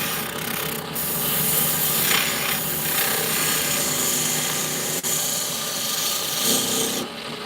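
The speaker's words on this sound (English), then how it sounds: "Scrape the inside of this wall." Continuous rasping scrapes against wood, close and steady, with short bursts of harsher scratching and a sharp click midway.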